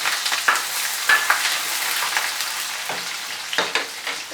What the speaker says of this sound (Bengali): এখন আমি পেঁয়াজ দিয়ে দিচ্ছি।